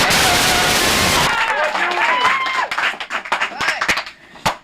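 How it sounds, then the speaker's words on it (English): Applause breaks out from a studio audience during a 1992 morning TV quiz segment, a dense wash of clapping that thins after about a second into scattered claps and excited chatter. "Applause from the audience at this moment."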